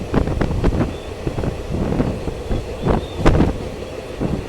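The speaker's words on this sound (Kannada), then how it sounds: "ಈ ಕಡೆ ನಮ್ಮ ಟ್ರೈನ್ ಹೋಗ್ತಾ ಇದೆ" A Rajya Rani train with ICF coaches runs along beside a highway, a steady rumble with rhythmic clacks and rattles heard from onboard, wind buffeting the microphone, no voices.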